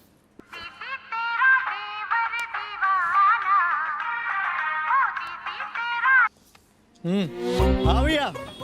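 A phone ringtone plays a bright, repeating electronic melody for several seconds, then stops. After a short pause a voice begins speaking.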